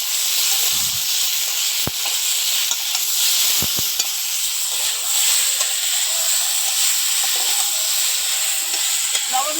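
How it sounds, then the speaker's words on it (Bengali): Spices with salt and turmeric sautéing in a hot pan give off a continuous loud sizzle and hiss, broken by a few sharp scrapes and knocks of stirring; no voices. "লবণ হলুদ দিয়ে ভালো করে কষিয়ে দিতে হবে"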